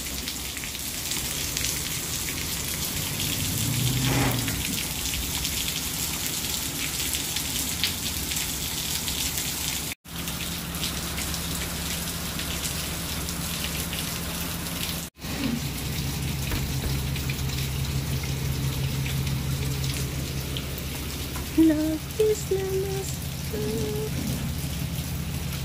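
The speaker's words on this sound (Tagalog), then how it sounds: "Pero, ang problema, umulan." Steady rain falls outdoors while a balikbayan box is picked up for shipping, a broad even hiss running throughout with brief dropouts and a few faint sounds near the end.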